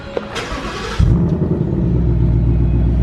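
A sports car engine in sport mode turns over and settles into a loud, deep exhaust rumble, idling steadily close by.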